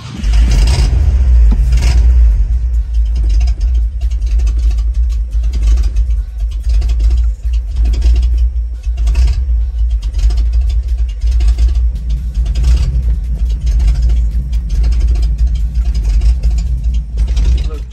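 A 1986 Ford F-350 truck with a gas leak runs its engine in a loud, steady low rumble that carries on throughout, with occasional scraping and clatter over the top.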